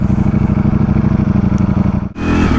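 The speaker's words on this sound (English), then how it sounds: "What I love about my Multistrada V4S is the torquiness of the engine." A Ducati Multistrada V4S motorcycle with a V4 engine runs steadily with a throbbing, pulsing low-end rumble, close and loud, before the tone shifts abruptly into a smoother, higher rev toward the end.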